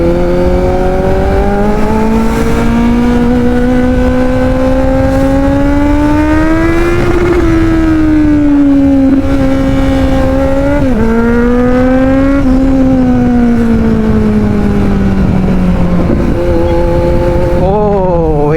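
A Yamaha R15 sports bike ridden on a rough road, its engine droning close and loud with a whining pitch that rises and falls as the rider eases off and accelerates, with wind roar over the microphone.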